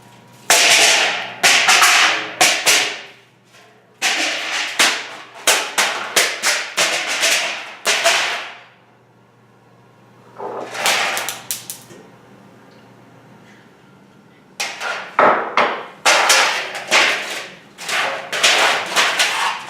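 Aluminum foil pie plates, a stack of about ten, flying off a charged Van de Graaff generator: bursts of sharp crackling snaps and clattering hits in rapid clusters, with quiet gaps between groups.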